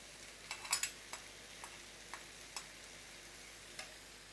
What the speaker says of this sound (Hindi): दो मिनट में फ्राई करेंगे